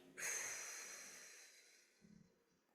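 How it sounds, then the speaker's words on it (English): A single slow exhale after a deep breath during a singing breathing exercise, a soft airy rush that starts strong and fades over about two seconds, close and quiet, with no talking. "and then breathe out"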